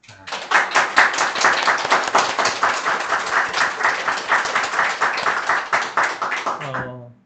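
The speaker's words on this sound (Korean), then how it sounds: "하나님께 우리 영광의 박수를 올리도록 하겠습니다" A church congregation claps together during a Sunday worship service, a dense, steady burst of many hands ringing out for several seconds before stopping abruptly.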